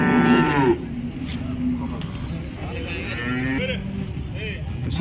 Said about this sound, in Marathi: शेतकरी मित्रांनो, ही गाय आहे.